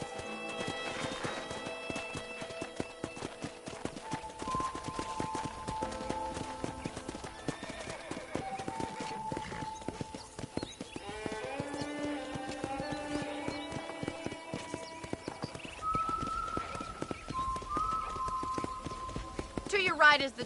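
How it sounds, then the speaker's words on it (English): Horse hooves clip-clop steadily through a ranch in the Red Dead Redemption video game, with background music and a whinny, while people talk over the ride. "let's see if you can still ride a horse"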